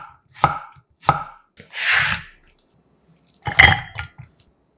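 Apple being chopped into small pieces with a knife on a cutting board, a few separate crisp cuts spaced apart, close and clear with no talk.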